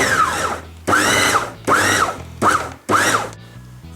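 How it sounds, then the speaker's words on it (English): Food processor pulsing pizza dough made with yeast: five short loud motor bursts, each spinning up in a rising whine and stopping abruptly, separated by brief quiet gaps. "I'm just going to pour that into the food processor. And we're going to pulse this through until it forms a nice ball"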